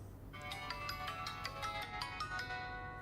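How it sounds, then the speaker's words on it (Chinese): An incoming call on a mobile phone plays a ringtone as a steady melodic pattern of repeating tones, moderately quiet over a low background hum, with no one speaking. "大伟怎么这个点给我打电话"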